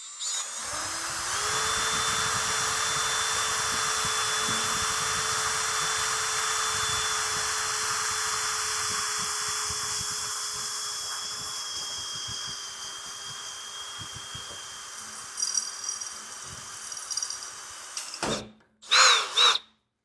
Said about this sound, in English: Then take your drill, align it into the divot you made, and start drilling.